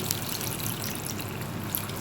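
Steady trickling and splashing of mutton cooking water being poured into a pan, a continuous watery wash with faint clinks, no voices.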